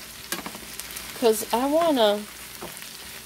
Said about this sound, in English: I'm frying up some onions and some potatoes.